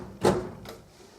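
Drawer holding oil paints in a craft room, a quick sliding scrape followed by a softer second knock, close and brief with no talk.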